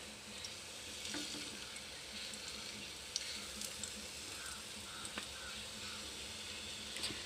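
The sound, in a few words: pointed gourd (potol) pieces frying in a hot pan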